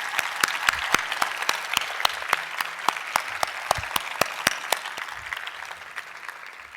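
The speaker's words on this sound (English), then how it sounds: "Can we give the staff and the volunteers a round of applause?" An audience at the AWP 2023 keynote event applauds the staff and volunteers. The claps are crisp and steady for about five seconds, then thin out and fade.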